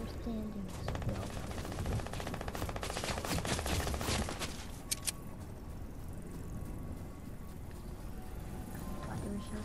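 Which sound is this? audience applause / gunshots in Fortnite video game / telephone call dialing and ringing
gunshots in Fortnite video game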